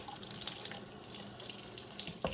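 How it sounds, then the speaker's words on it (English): Tap water running lightly over raw chicken sitting in baking soda in a sink, a steady close splashing stream with a few drips and clinks, no talking. "I'm going to lightly run some water over here"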